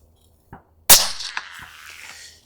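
A suppressed .223 bolt-action rifle fires a varmint round: one sharp, loud crack with a short echoing tail, after a faint click and with no talking.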